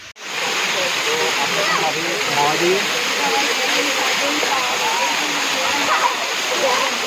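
Steady, dense rush of falling water, loud and continuous, from Sunsar waterfall near Bhiloda, Gujarat, close by, with faint voices of people bathing beneath it blurred into the roar.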